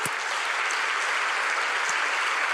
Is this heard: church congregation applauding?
yes